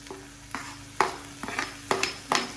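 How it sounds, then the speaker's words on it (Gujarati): Onions and tomatoes frying in a pan for a Gujarati home meal, with soft continuous sizzle broken by several sharp stirring scrapes and clatters spaced about half a second apart, close and moderately loud. "ડુંગળી સરસ મજાની ફ્રાય થવા દઈશું"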